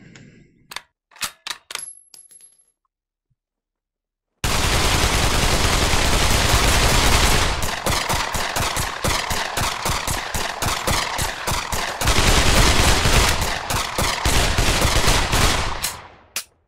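Gunfire in the VR shooter Pavlov VR: a few sharp isolated shots and a short clink, then a pause, followed by long sustained rapid-fire bursts, loud and close.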